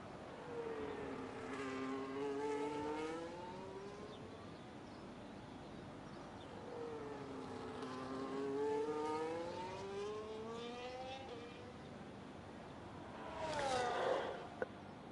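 F1 25 video game race car engine, an F3 car at the Texas Grand Prix, rising and falling in pitch through gear changes as it crosses the final corner, with a sharper whine near the end.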